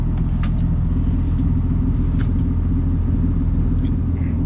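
A John Deere 7600 tractor hauling a manure bedpack off a cement floor makes a steady, loud, low diesel drone and rumble that holds unbroken throughout, with no talking.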